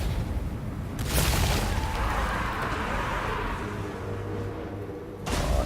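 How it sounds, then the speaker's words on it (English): Plague claw catapult artillery from Total War Warhammer 2 booms and crashes in a dense, continuous battle roar, with a heavier impact surge around a second in and another near the end, no voices. "Oh, some very nice plague claw catapults going on here"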